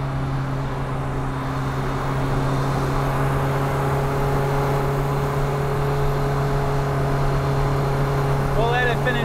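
A car engine fitted with a VNT turbo idles steadily while warming up, a constant droning hum with a faint whir, close and continuous throughout.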